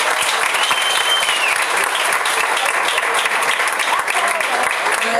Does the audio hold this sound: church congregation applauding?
yes